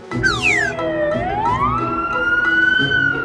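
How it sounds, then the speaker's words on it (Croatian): An ambulance siren wails loud and close, sweeping up and down in pitch in a continuous alternating tone with no talk over it. "Vozilo hitne pomoći."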